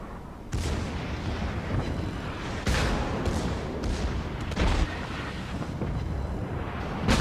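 Naval artillery salvos in the World of Warships video game: several heavy booming bursts, each rolling into a long rumbling decay, landing over a continuous loud battle-noise bed.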